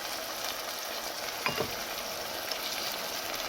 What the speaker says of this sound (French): je vais laisser tous les légumes cuire avant de rajouter encore les boulettes de viande